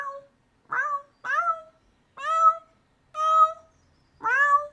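A cat meows six times in a row, each call short and clear with quiet gaps between, close and fairly loud with no other sound.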